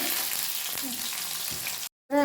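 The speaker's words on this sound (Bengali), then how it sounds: "প্রথমে আমি তেলের মধ্যে আগে পেঁয়াজটা দিয়ে নেব" Onion frying in hot oil gives a steady, close, loud sizzle that fills almost the whole stretch, then stops abruptly for a short silent break before another sound begins.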